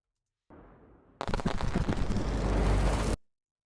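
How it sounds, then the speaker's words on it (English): A fireworks sparkles effect from a sound pack plays as a low rumble, then bursts into a dense, loud crackling hiss that holds for about two seconds and cuts off abruptly. "Grab a ton of these fireworks sparkles."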